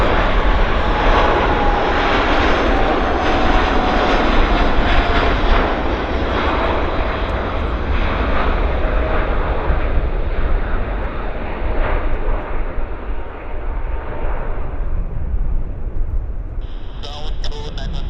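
A fixed-wing airliner on runway 08 at Vancouver Airport gives a loud, continuous engine roar that holds steady for the whole stretch, then slowly fades as it moves away.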